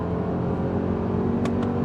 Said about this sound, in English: it's kind of a slow revving engine